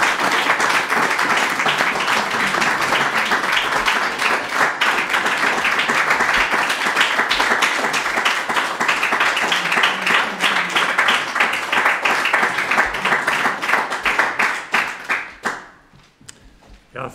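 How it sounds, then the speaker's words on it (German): A seated audience at a book-presentation talk breaks into loud, dense, sustained applause that holds steady for about fifteen seconds before thinning out to a few scattered claps. "Applaus"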